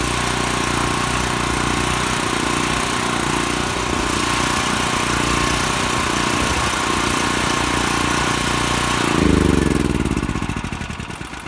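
Honeywell 0060371 portable generator engine running at a steady, loud mechanical drone with a constant hum, then surging briefly near the end before the sound begins to fade.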